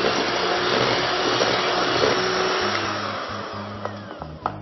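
An electric hand mixer whirs steadily through cake batter with cocoa mixed in, a continuous motor drone that runs for the whole stretch and ends with a few small clicks.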